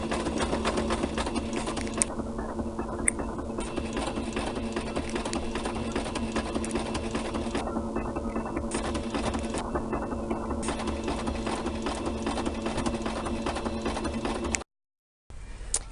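A sewing machine stitches ribbon along the edges of an apron in a steady, close mechanical whir, running almost continuously with brief changes in tone before a short stop near the end.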